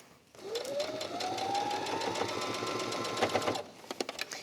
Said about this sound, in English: we can sew close to the edge and get those pieces, those two sides of the fabric attached together